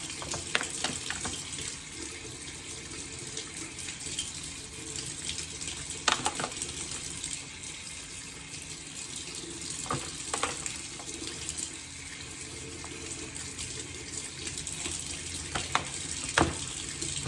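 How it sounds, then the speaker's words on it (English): Packaged raw chicken rinsed under cool running tap water at a kitchen sink, a steady close hiss of flowing water with occasional splashes and clunks, no talking. "Sometimes it's worthwhile to rinse it off."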